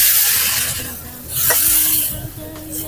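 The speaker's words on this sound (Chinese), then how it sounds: "給它翻炒個幾下，直接加開水" Luffa and egg stir-fried in a wok with ginger shreds, a spatula scraping and tossing over a steady sizzle, followed by a burst of boiling water poured in that hisses loudly, all close and without talk.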